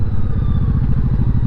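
Honda Shadow motorcycle engine running on its first ride after long storage, a steady loud low rumble with rapid pulsing throughout.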